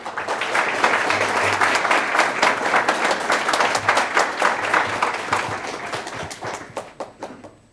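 A City Club audience in Cleveland claps for about seven seconds to welcome speaker Keith Reed. The applause is loud and sustained at first, then thins out and fades at the end.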